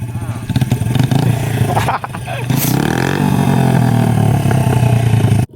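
A motorcycle roars close by as the rider revs hard, the engine pitch climbing through a sustained loud pull, as if lifting into a wheelie, with voices talking over it.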